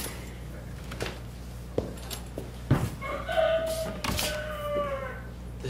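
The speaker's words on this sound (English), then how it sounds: "The second crowing of the cock." A stage-play sound effect of a rooster crowing rings out midway through, over a low background hum with a few scattered knocks.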